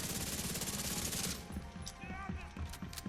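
Rapid-fire automatic gunfire from a 1000+ RPM build in The Division 2, a dense, loud stream of shots that stops after about a second and a half, followed by quieter game sounds.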